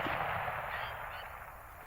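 A single rifle shot fired during a December coyote hunt, a sharp blast at the start trailing into a fading echo outdoors.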